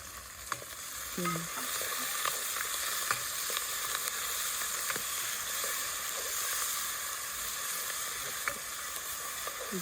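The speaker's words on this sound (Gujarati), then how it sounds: "ડુંગળી નાખી દઈશ. ટમેટા નાખી દીધું છે ધાણાને બધું" Onions frying with tomatoes and coriander in a pan, a continuous close sizzle and hiss broken by sharp pops and occasional stirring clicks, steady throughout without speech.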